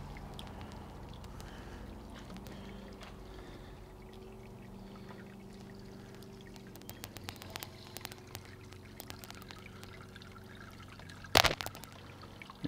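Liquid draining out of a Brewzilla all-in-one brewing system during an IPA brew, a faint steady pour and trickle running continuously under low background hum, with a brief louder clatter near the end.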